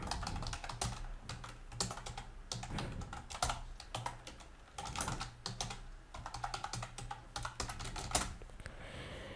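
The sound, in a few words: typing a signature on a computer keyboard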